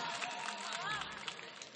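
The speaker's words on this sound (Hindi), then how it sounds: "ताली बजाओ।" An audience applauds at a mushaira poetry recital in Tambaur, Sitapur, with a dense, steady patter of clapping and crowd noise that carries on throughout.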